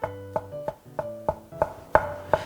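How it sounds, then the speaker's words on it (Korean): A knife slices a rolled egg crepe into strips on a cutting board, about eight crisp, evenly spaced chops close up with no talking. "크게 돌돌돌돌 말아가지고 채 썰어주시면 되세요"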